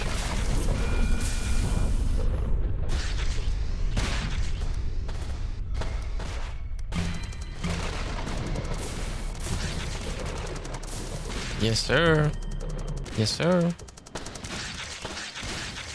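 Explosions and tank gunfire from the Roblox game SCP Tower Defense rumble loudly and continuously through the clip, with dense bursts and booms, while a voice talks over the battle.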